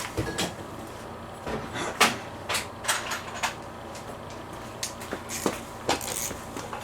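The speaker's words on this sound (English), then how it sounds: "Just going to get a little ratchet, do that by hand." A small hand ratchet snugging down bolts on the tin cover of a Massey Ferguson lawn tractor, a series of short irregular clicks and metallic ticks, close and moderately quiet against a faint background.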